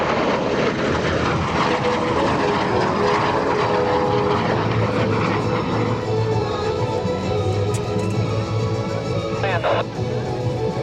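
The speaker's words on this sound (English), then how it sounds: "the photo pass coming up over your left shoulder as Greg Colyer makes Ace Maker 3, his T-33 shooting star" A Lockheed T-33 Shooting Star jet making a low photo pass at an air show, its loud continuous engine roar filling the whole stretch at close range while a commentator talks over it.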